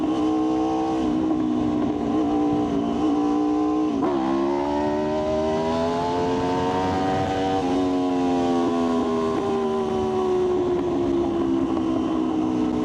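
An Aprilia RSV4 1100 Factory motorcycle holds a steady, loud high-revving engine note during a wheelie, pitch dipping briefly then climbing and leveling, continuous and close with no talk.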